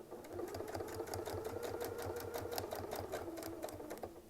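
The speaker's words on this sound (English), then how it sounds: "As I sew across, I'm going to sew until the needle touches." A sewing machine stitching across a quilt design, a steady rapid mechanical chatter that runs evenly throughout at a moderate level.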